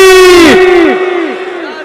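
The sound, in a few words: crowd chanting the slogan Nara-e-Haidari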